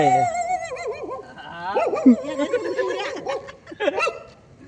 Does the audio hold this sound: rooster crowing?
no